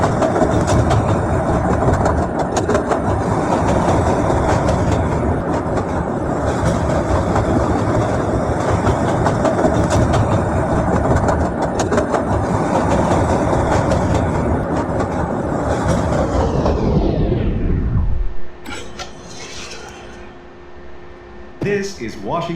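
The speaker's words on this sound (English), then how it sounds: "This is a Brown Line train to Kimball" A CTA Brown Line train in a Roblox Loop train simulator runs steadily with a loud, continuous rumble and clatter, then winds down to a stop near the end, leaving a quieter hum.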